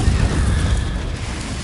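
The Confringo spell goes off in Hogwarts Legacy with a deep, rumbling explosive blast that fills the short moment, a dense low roar without voices.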